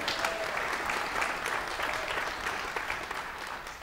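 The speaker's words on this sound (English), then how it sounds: "A round of applause to all of you" An audience at a live music venue, the HCA in Minnesota, breaks into sustained applause, a dense and even wash of many hands clapping at moderate distance, steady throughout with no voices standing out.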